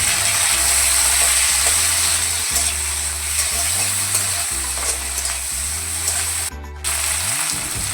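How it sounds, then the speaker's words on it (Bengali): Chopped tomato frying with onions in a hot pan, with a steady sizzle under rhythmic scraping strokes as it is stirred. "টমেটোটা একটু নাড়িয়ে চাড়িয়ে নিয়েছি।"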